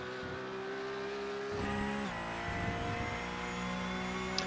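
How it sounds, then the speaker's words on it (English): A Porsche Cup race car at Silverstone revs and downshifts, engine tones dropping in steps with exhaust crackles and pops, a steady loud mechanical drone with no voices. "Some nice crackles out of the exhaust on downshifting."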